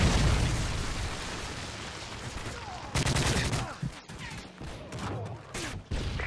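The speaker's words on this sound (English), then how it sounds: "Friendly Predator missile inbound." Predator missile strike in the video game Modern Warfare 3, heard as loud, dense blasts and rumbling explosions with scattered gunfire, sustained throughout and surging again midway.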